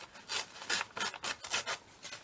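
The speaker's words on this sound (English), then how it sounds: "I'm just going to tear a little bit of this up." Recycled paper being torn by hand in short ripping bursts, several quick tears in a row, close and fairly quiet with no talking.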